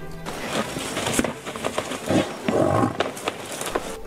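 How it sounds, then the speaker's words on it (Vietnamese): African buffalo giving a long, rumbling growl, a continuous low roar with rough, noisy texture lasting several seconds and swelling in places, heard alone at close range. "Các con vật này sẽ phát ra những tiếng gầm gừ kéo dài và ầm ầm."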